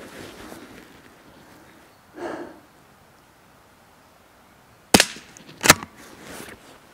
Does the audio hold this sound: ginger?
no